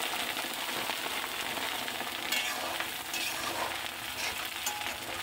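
Spices fry in hot mustard oil in a pan, giving a dense, continuous sizzle and crackle at moderate level, with faint stirring scrapes and no speech.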